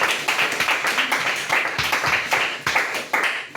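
A church congregation claps together in a steady, fast rhythm, loud and close, with no talk over it.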